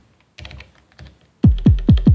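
Punchy techno kick drums from an Elektron Digitone sound pack, four deep booming hits in steady succession at the end, preceded by quieter clicking and tapping sounds, close and with no talking.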